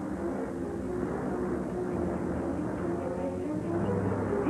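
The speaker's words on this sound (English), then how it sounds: "left England in a light aeroplane to make the first flight to Cape Town" A light aeroplane flying over African wildlife country, giving a steady, continuous engine drone at moderate distance that holds evenly throughout without breaks.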